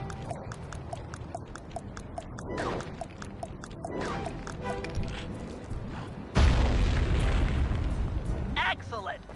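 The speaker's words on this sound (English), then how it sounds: "Place the dynamite when you get near the anchor, or kaboom!" A dynamite blast in the Sly 3 video game tears through a balloon anchor above the Venetian skyline: a sudden loud broadband boom that lingers as a rumbling roar over busy game sounds and clopping effects.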